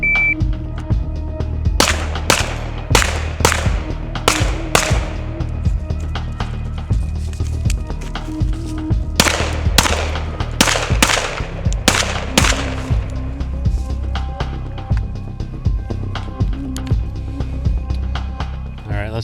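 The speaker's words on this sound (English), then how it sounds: "And then from the right position, I'm gonna do the same shooting sequence, but from right to left." Pistol shots fired at 20 yards in a night-vision drill, two rounds per target: sharp, loud reports in quick pairs and bursts with short pauses between strings.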